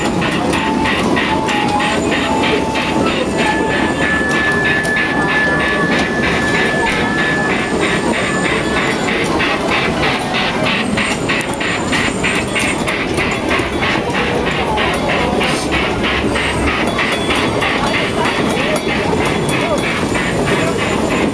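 A train rolls past on a stroll, loud and continuous, with rhythmic clickety-clack of the wheels over rail joints and a steady rumble, while people talk over it.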